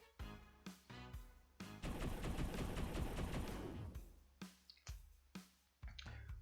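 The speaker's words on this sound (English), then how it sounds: "Nova unleashes a barrage of return fire" A barrage of gunfire sound effect in a story about Nova's return fire, with sharp single shots, then a sustained roaring burst of rapid fire lasting a couple of seconds, followed by more spaced shots.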